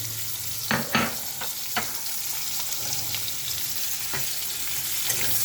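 Sliced pointed gourd frying in hot oil as chopped onion goes in: a few sharp clatters and a rise in the crackle, then a dense, even sizzle close up with light stirring and no voices.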